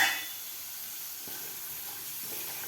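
Potatoes frying in an open pan on a medium gas flame give a steady, soft sizzle and hiss once the lid comes off, with faint clinks near the start and end.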